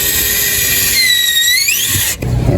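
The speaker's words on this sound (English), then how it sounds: "So it's putting in the bracket for the gun or the charging handle, and just screwing it in and mounting it onto the wall." A power driver whines steadily as screws go into a wall to mount the charging-handle bracket of a Level 2 EV charger at home, rising in pitch before stopping abruptly with a clunk.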